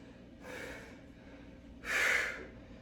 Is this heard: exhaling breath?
yes